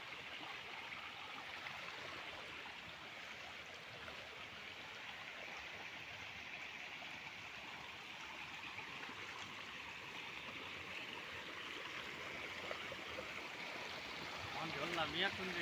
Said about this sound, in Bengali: তাই দেখো জল কিরকম নামে